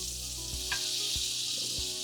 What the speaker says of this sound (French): Le beurre est en train de fondre.